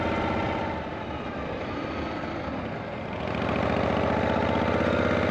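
A custom chopper motorcycle engine runs steadily throughout, a continuous rumbling drone with wind noise, growing slightly louder near the end.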